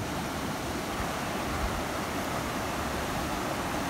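The Tunuyán river near El Manzano Histórico rushes in a steady, dense broadband roar, constant and close throughout, with no voices over it.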